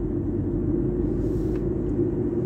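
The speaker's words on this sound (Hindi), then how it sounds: "आप लोग देख सकते हैं कि यहाँ पे कितना ट्रैफिक रहता है।" Continuous dense rumble of traffic on a Kuwait road, with engines droning steadily at close range and a faint higher swish as a vehicle goes by.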